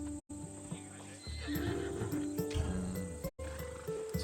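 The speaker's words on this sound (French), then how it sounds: "Un vrai cheval de guerrier." A Macedonian war horse, bred for combat, neighs and whinnies alongside clip-clopping hooves in the Assassin's Creed Odyssey video game, close and loud amid game ambience, with brief dropouts.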